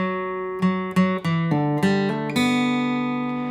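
Acoustic guitar in a strumming pattern of a down stroke, a hammer-on, then an up stroke, with a handful of distinct plucked attacks building to a final chord that rings out quietly.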